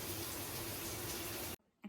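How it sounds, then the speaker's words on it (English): Steady broadband rush of shower water running, loud and continuous for about a second and a half before cutting off abruptly, followed by brief quiet and a faint splash. "Now I'm just gonna go hop in the shower and just relax a little bit"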